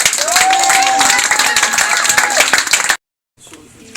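Loud applause and clapping from a crowd at a women's month gathering held by an NGO in Haut-Katanga, dense and sustained for about three seconds before cutting off, followed by quieter room noise.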